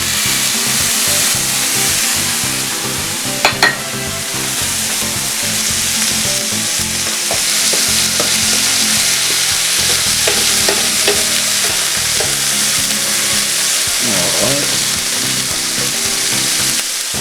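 Chopped tomatoes cooking in a lobster paella pan produce a loud, continuous sizzle and bubbling crackle close up, with occasional scraping stirs and clatter over seventeen seconds.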